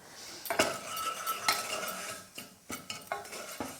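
Ginger roasts in a stainless steel pan as a utensil stirs and scrapes against the metal, giving a run of irregular, close clinks and scrapes over a faint background hiss, with no talking.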